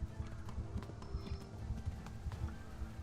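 Horse galloping in the medieval game Kingdom Come: Deliverance, a rapid steady clip-clop of hooves close up, with faint background sounds underneath.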